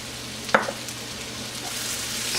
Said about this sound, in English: Stir thoroughly.